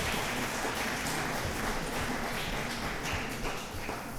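Applause from the audience at a school Board of Education meeting, a dense, continuous clatter of many hands clapping that holds steady and fairly far off for several seconds, with no speech over it.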